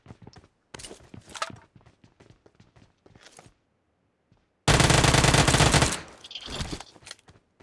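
PUBG Mobile gunfire starts with scattered sharp shots and clicks, then a loud sustained burst of automatic fire cuts in, followed by a shorter burst, all close and with no talking.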